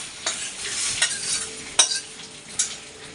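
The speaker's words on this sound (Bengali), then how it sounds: "এবার ডালটা ফোড়ন দেবো" Dal is tempered and stirred in a pan, a steady frying sizzle broken by a few sharp scrapes and clinks of the spoon against the pan, close and alone.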